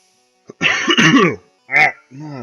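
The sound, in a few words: coughing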